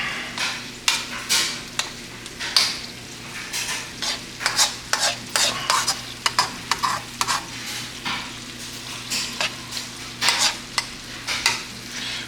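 Food in a pan is stirred for a meatloaf meal, with a brisk run of close scraping strokes of a spoon against the pan over a steady low sizzle.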